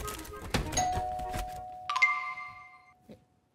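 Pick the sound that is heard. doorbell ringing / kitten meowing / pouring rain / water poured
doorbell ringing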